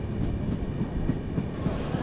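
Steady rumble and rattle of a passenger train running on rails, heard from inside a carriage on a journey toward Jasidih Junction from Kolkata, with faint rhythmic clicks over a continuous low roar and no talk.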